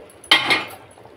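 A metal lid clanks down onto a pot of simmering mango fish curry in a home kitchen. It makes a single sharp clink with a brief ring that fades over about a second.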